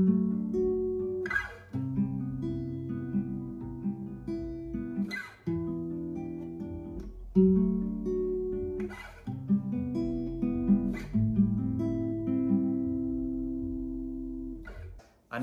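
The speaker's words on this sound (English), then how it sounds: "And so we're just plucking that 4 middle strings." Clean guitar chords plucked on the four middle strings for a song, a quiet, steady fingerpicked pattern with soft bass notes and no talking.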